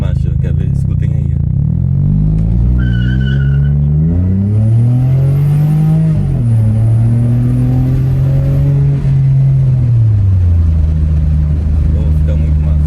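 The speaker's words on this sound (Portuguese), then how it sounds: "Ó, vamos simular uma arrancada, já tá com o escapamento. Pô, fica muito massa a troca de marcha." A VW Polo Highline fitted with a sport exhaust pulls away hard, its engine note rising and dropping through gear changes with a deep, loud, close rumble, while someone briefly talks over it.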